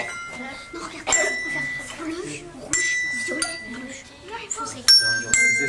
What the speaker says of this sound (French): Il faut que la cloche soit pas trop loin, pas trop près, pour avoir un joli geste.